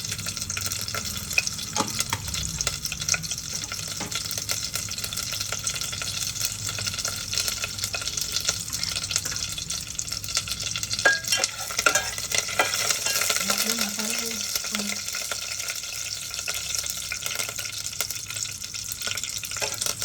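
Cumin seeds and curry leaves, added after cloves and cardamom, sizzle in hot oil for a Maharashtrian village-style chicken curry, a steady close frying crackle with occasional stirring clinks and no talk.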